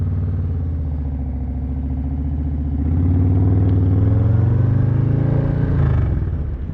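A Harley-Davidson Low Rider ST motorcycle rumbles loud and close, its deep engine throb swelling midway as it pulls away and rides, then easing near the end.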